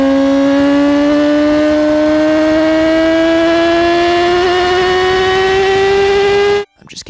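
A Suzuki GSX-R1000R sport motorcycle engine revs high, holding a steady, rising whine with strong harmonics for several seconds, loud and close, then cuts off abruptly near the end.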